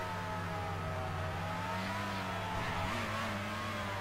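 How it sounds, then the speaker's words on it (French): A Formula One car engine in the F1 Racing Championship video game drones at high speed, a steady mid-pitched hum with slight pitch wavering and no distinct revving, heard alone at moderate level. "Vous avez vu le bruit du moteur à 285"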